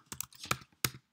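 Keystrokes on a Mac keyboard while a terminal command is typed: a few quick, crisp clicks in small uneven bursts, close and clear, with no talking.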